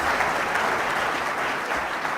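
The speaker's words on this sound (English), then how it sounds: "Let's give them a round of applause for their amazing careers." A conference audience at an auto dealers' convention bursts into steady, dense applause, sustained and evenly loud throughout with no voices over it.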